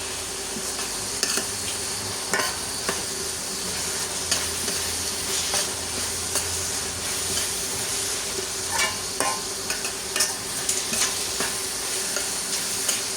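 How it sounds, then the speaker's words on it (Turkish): Food cooking in a pot on a home stove gives a steady close sizzle and hiss, with repeated scraping strokes from stirring scattered through it and no voices. "yemeği hemen karıştırıyorum çok karıştırıyorum diyorlar"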